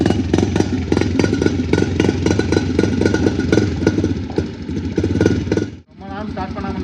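A Suzuki desert motorbike in Saudi Arabia, restarted after sitting unused for a long time, runs with a loud, steady rapid engine chatter that cuts out briefly near the end, with a voice heard over it.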